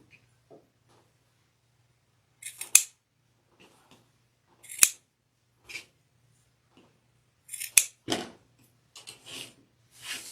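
Scissors cut sunflower petal shapes for a flower wreath on a large board, giving sparse, sharp snips and clicks spaced apart by quiet pauses, near and crisp.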